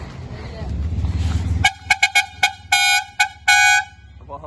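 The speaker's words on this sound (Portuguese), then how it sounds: "Dá uma buzinada lá na bikezona aí, ó." A loud horn on a big bike honks in a street, a series of short toots followed by two longer blasts, close and dominant, after a stretch of rumbling noise.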